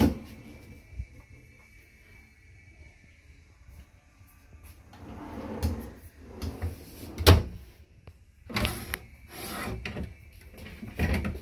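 RV cabinet drawers at an RV show slide open and shut several times, giving wooden rubs and sharp knocks that grow busier and louder toward the end, with no talking.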